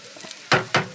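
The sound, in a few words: stirring beetroot frying in a pan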